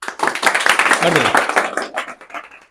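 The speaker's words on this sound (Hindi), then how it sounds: "चलिए इसके लिए तालियां बजाइए" An audience of Bihar Board students claps together in a broad, rapid patter that swells and then thins out, with voices mixed in under the clapping.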